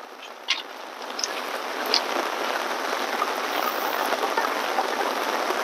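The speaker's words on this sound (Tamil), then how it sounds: "நல்ல மழை." Steady rain in Jaffna hisses over a surface, with a few louder drips early on and no voices.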